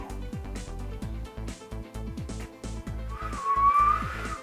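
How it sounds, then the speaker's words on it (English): A person whistles a short melody, with rhythmic music playing underneath and the tune rising clearly toward the end. "I can whistle too."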